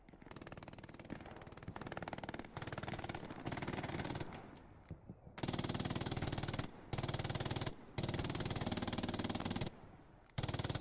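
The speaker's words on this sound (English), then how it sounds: "We have double MGs firing." Two machine guns firing in the WWII shooter Hell Let Loose, long sustained bursts of rapid automatic fire with short gaps between them, loud and close throughout.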